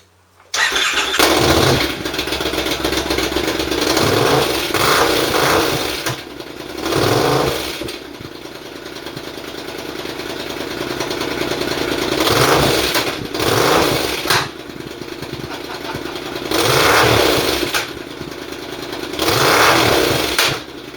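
A Triumph Scrambler motorcycle running on open pipes revs in repeated loud bursts from a rough idle, with a spitting, crackling exhaust between throttle blips, heard close and alone.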